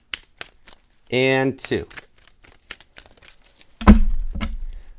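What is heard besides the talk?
shuffling a deck of tarot cards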